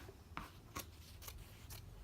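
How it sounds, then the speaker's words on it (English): Scissors snip through a shirt in four evenly spaced crisp cuts, faint and close, with no talking. "You can even hold the shirt with both hands down here and just run your scissors along or slice."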